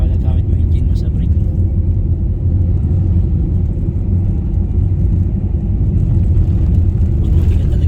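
A manual car engine rumbles low and steady while descending the old zigzag road at Pagbilao, using engine braking, with a constant drone under people talking in the cabin.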